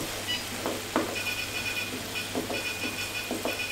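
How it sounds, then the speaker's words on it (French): Agnolotti ravioli sizzling gently in browned butter in a pan, a soft, steady crackle with occasional small clinks and stirring sounds, fairly quiet and close. "Donc là, on va mettre nos ravioles dans le beurre."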